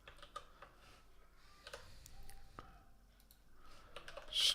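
Faint, sparse clicking from typing on a computer keyboard, soft irregular key taps spread through a quiet room, with a slightly louder cluster at the very end and no one talking.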